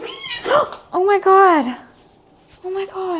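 Cat yowling loudly after its tail was stepped on, two drawn-out distressed meows close by, then a shorter cry, with a person's alarmed exclamations mixed in.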